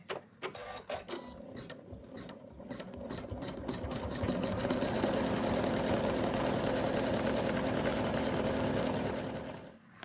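An embroidery machine stitching fabric held in a hoop, starting with a few separate clunks, then settling into a fast, loud, steady mechanical whirring that stops abruptly near the end, no talk.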